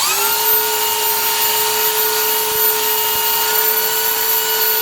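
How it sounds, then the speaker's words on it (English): A belt sander grinds steadily against a car engine part, its motor holding a loud, even high-pitched whine with bright overtones for the full stretch, close up and with no talking. "So we sanded it for a while with a belt sander."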